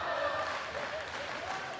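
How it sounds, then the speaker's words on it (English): Crowd at a Mira Costa boys high school volleyball match cheering and clapping, a steady dense wash of applause and shouts that stays loud throughout with no clear break. "Miracosta crowd getting into it"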